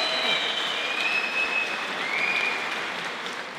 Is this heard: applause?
yes